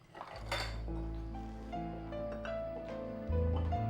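Dishes and plates clatter and clink steadily as they are cleared away, the clatter sustained over a humming background with no talk.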